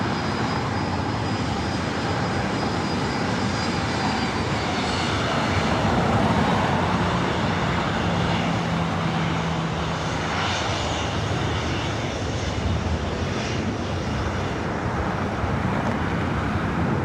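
Jet airliner engines roaring during takeoff at LAX, a steady broadband rumble that swells slightly midway and holds loud and continuous throughout.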